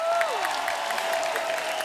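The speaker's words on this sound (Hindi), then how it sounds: "एक बार जोरदार ताली।" A TV comedy show studio audience breaks into steady clapping, a moderate wash of applause throughout with a faint sustained musical tone underneath.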